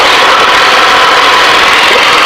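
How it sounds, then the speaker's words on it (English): A Yak-52 aerobatic aircraft's piston engine drones steadily and loudly in flight, a dense continuous roar with no pauses and no voices. "it's still early enough in the day that the engine's performing pretty well"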